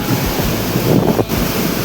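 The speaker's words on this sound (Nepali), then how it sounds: "यत्रो खोला आइदियो अनि कर्णाली नदी यहाँनिर छ" Floodwater rushing in a swollen hillside stream near the Karnali River during rain and hail, a steady loud roar with brief dips, no voices.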